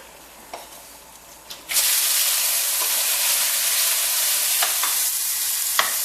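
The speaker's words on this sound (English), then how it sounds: "First of all, we're going to start off with frying our meat here" Pork marinated overnight in soy sauce and sugar hits a hot pan over medium-high heat, breaking into a loud, steady sizzle that fills the rest of the clip, with faint clicks of stirring.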